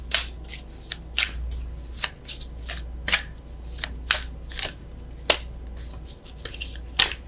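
A deck of oracle cards is shuffled by hand in a quiet room, with a series of crisp, close riffles and snaps in an irregular rhythm over a low, steady background hum.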